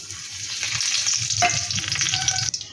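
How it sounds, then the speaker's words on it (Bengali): Bay leaf, dried red chilli, cinnamon, green cardamom and asafoetida tempering in hot white oil, a brief crackling sizzle up close with a sharp pop partway through. "এগুলো আমি ফোড়ন হিসাবে সাদা তেলের মধ্যে দিয়ে দিচ্ছি"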